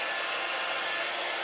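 A blow dryer running on its cool setting gives a steady, loud airy whoosh that stays even from start to finish, with no one speaking.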